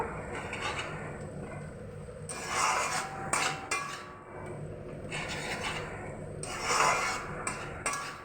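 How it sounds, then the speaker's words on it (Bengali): Spices and sugar are stir-fried in a pan for palak paneer, with scraping spatula strokes and sizzling rasps in uneven bursts, close and fairly quiet. "দেব সামান্য চিনি খুব ভালো করে আমি মশলার সঙ্গে কষিয়ে নেব"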